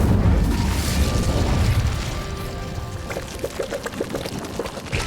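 Incendio fire spell cast in Hogwarts Legacy, a broad whooshing burst of flame that starts loud and rumbling, then settles into a crackling, sputtering burn with small pops toward the end.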